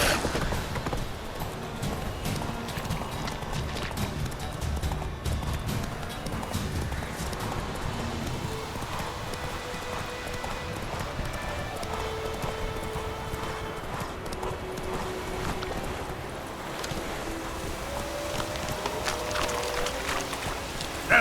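Horse hooves clip-clop at a steady gallop across open ground in The Witcher 3, a continuous rhythmic drumming with wind and ambient game sound around it.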